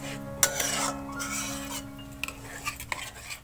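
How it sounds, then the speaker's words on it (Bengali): A utensil stirs and scrapes thick ripe mango pulp in a pan while it cooks down for a mango bar. The close, irregular scrapes and light clinks sit over a steady low hum. "আর এইভাবে নাড়তে থাকতে হবে যাতে কলাটা ধরে না যায়।"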